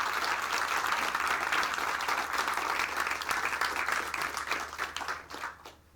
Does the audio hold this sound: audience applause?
yes